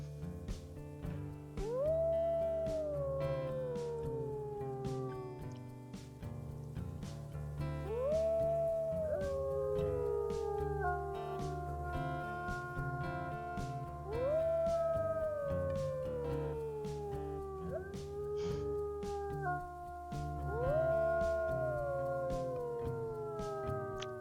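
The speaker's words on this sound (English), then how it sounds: "Their howls together do sound very beautiful" Several wolves in a video game howl together in long rising and falling calls, voices overlapping in repeated waves over a steady low background drone, with no talking.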